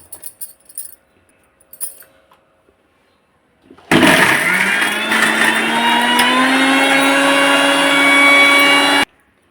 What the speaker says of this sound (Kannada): ಹಾಗಾಗಿ ಇದನ್ನು ಮಾತ್ರ ಈಗ ಮಿಕ್ಸಿ ಮಾಡ್ಕೊತೀನಿ